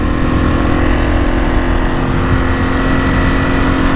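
Aprilia RXV450 off-road motorcycle idling steadily up close, a constant loud engine drone with a fixed low hum holding throughout and no voices over it.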